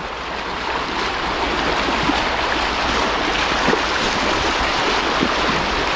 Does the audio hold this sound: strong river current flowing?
yes